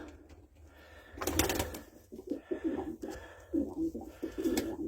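White Istanbul pigeons cooing close by in a loft, soft low throaty coos in short repeating bursts, with a brief rustle near the start and no voices.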